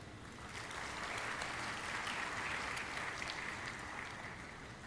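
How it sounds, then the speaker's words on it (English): An audience at a freshers induction programme applauds steadily for about five seconds, a dense and even wash of clapping from a sizeable crowd, moderately distant, with no talking over it. "Let us give a round of applause to them."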